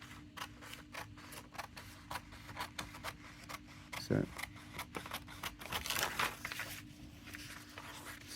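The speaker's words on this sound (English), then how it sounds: "I've got some little paper scissors here. I'm going to show you, I'm just cutting out the pattern now" Repeated quick snipping and rustling as small paper scissors cut out a paper sewing pattern for a jacket cuff, close by, with a louder crinkle partway through; no voices.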